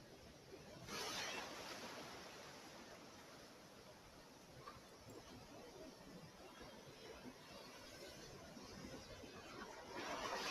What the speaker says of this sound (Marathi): लाटा बघा घुसळत आहेत घुसळत आहेत